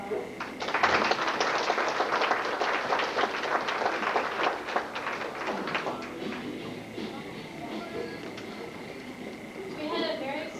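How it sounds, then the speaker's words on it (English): A crowd applauds students coming forward at an FFA chapter event, a steady patter of many hands that fades after about six seconds, leaving quieter room noise and brief voices near the end. "Please give them a round of applause."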